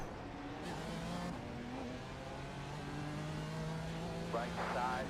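Race cars from a multiclass endurance racing video game at Long Beach, GT3 cars among them, passing with revving engines and shifting pitch, fairly faint and steady.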